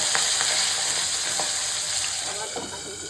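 Pabda and amudi fish fry in hot oil in a pan, a loud continuous crackling sizzle with scattered pops and a few stirring scrapes, close up and steady without speech.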